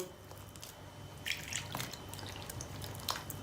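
Water trickles and drips into a bowl of flour and yeast during dough making, with soft splashing and scattered wet drips at low level and no speech.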